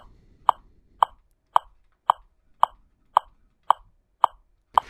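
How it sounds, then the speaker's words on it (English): Metronome ticking steadily, nine crisp clicks spaced evenly about half a second apart, close and clear against near silence. "imagine that I wanted to play a sound that fitted exactly in between two of the clicks of the metronome"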